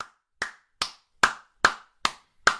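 Seven sharp, evenly spaced hand claps ring out alone in a quiet room, each about 0.4 seconds apart, crisp and close.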